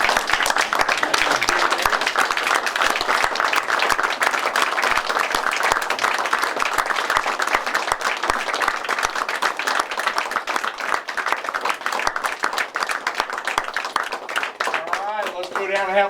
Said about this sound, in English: Would you give these two men one last round of applause?